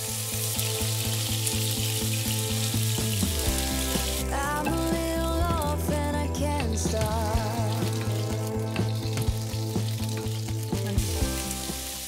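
A handful of meat sizzles loudly in a smoking-hot pot for chili con carne, with steady crackling frying and occasional stirring clatter throughout.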